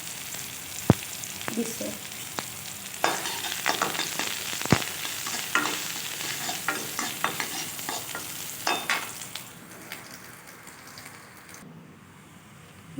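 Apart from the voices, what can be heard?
onion, garlic and whole chili frying in pan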